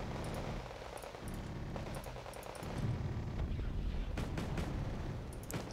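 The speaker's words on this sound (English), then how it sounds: "Immediately called in my mortars to help out." Mortar fire in the real-time strategy game Wargame Red Dragon: distant heavy booms and thuds ring out over a rumbling battlefield, growing louder and denser toward the end.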